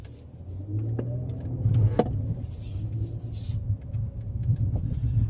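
A Kia Telluride SX AWD V6 SUV accelerates off-road, its low engine drone and rumble steady and close from inside the cabin, with occasional knocks and rattles from the rough ground.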